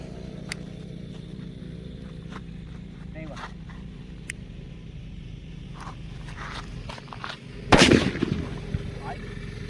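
After several seconds of quiet rustling and faint ticks, a single loud Diwali firecracker bangs nearby, its crack trailing into a short rumble.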